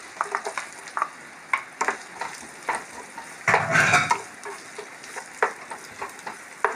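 Shallots frying in coconut oil in a pan, a soft sizzle with repeated scraping stirs and clinks of a spoon, one louder hiss midway, no talking.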